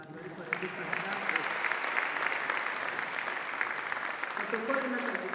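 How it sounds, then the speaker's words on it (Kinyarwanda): Sustained applause from a seated church audience at a conference panel, a dense steady patter of clapping lasting several seconds at moderate distance. "Ndabasaba gukomera amashyi abantu bari baradufasha"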